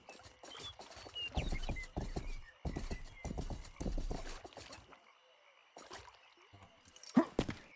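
A horse in a video game trots with rapid clip-clop hoofbeats in uneven bursts separated by short pauses, ending with a brief neigh, heard fairly close and alone.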